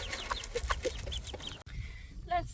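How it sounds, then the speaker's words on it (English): Backyard hens clucking nearby while scratching and pecking at the ground, a quick run of short clucks followed by a brief pause and one more louder call. "And that's what chickens do. They scratch and they peck."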